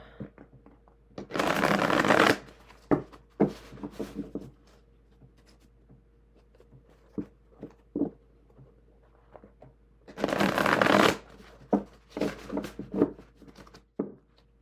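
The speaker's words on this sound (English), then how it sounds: "I'll give you another shuffling demo." Two loud bursts of riffle shuffling with card cascades, separated by lighter taps and flicks of cards being squared and handled, with no talking.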